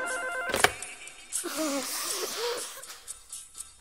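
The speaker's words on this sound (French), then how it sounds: "Commissaire Jenny Flair, téléphone pour vous." A telephone rings with a short electronic trill, followed by breathy, wheezy vocal sounds and rustling, moderately close.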